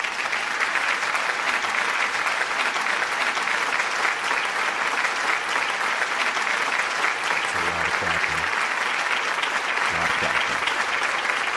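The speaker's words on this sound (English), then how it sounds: "Everybody clap." Steady applause from a podcast audience fills the whole stretch, dense and even, with a few faint lower murmurs near the end.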